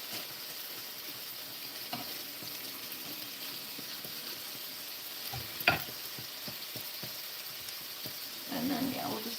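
A mini burger fries in a pan with a steady soft sizzle, faint crackles and occasional scraping or stirring clicks, then a louder sizzling burst near the end, with quiet talk at times.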